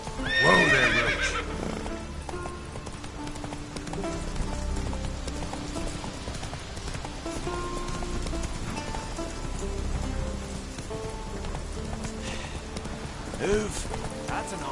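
In The Witcher 3 the horse Roach lets out a loud whinny at the start, then hooves clop on through rain. A voice speaks briefly over the scene.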